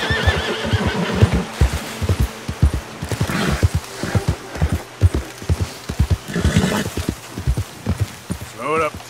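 A horse in Red Dead Redemption 2 gallops with loud, rapid, rhythmic hoofbeats throughout, joined near the end by a whinny. Voices talk over it.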